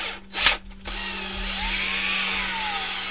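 A power drill drives a 4mm bit into the end of an alloy rod, starting with a brief whir and short grinding bursts, then settling into a steady high whine.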